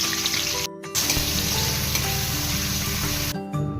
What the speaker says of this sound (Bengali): এবার লবণ হলুদ দিয়ে মাখিয়ে রাখা চিংড়ি মাছগুলো ভেজে নিব।